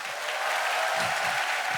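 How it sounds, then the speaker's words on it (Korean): A brief, steady burst of studio audience applause on a KBS music show stage. Dense and continuous with no voices over it. "아, 여러분 박수 한번 주세요."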